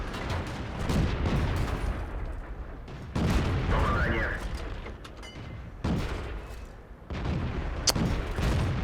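World of Tanks tank cannon fire from a T-28E with the F30 gun: several heavy booming shots with rumbling tails, spaced a second or two apart, mixed with game noise and a voice.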